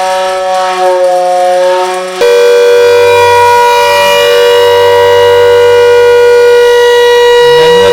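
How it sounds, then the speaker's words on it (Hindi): A manual civil defense siren sounds during a drill, a loud sustained wail holding steady tones that briefly shift then ramp back up, close and continuous for the whole stretch. "आज इन सायरन्स की टेस्टिंग भी की गई।"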